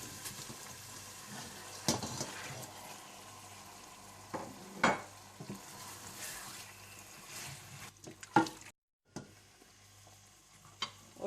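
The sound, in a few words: chicken frying in roasted tomato paste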